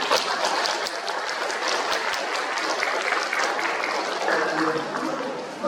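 At a peace and unification event, a crowd of attendees breaks into applause for an introduced guest, continuous moderately loud clapping that holds steady for several seconds.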